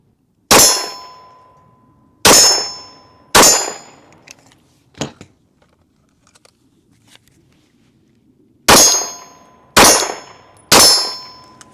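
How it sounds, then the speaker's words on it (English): Pistol shots from a Glock and a Shadow Systems handgun fired slowly at a range: six loud, sharp cracks in two groups of three, each with a ringing decay, separated by a long quiet stretch with faint handling clicks. "Alright, now I'm going to just do some side by side shooting. See how, just some slow shots to see how it feel."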